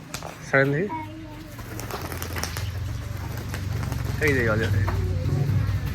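Pigeons coo nearby in low, throaty bursts, two clear calls a few seconds apart over steady background noise and chatter.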